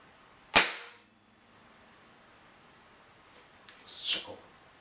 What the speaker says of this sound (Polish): Oddamy, oddamy kontrolny strzał.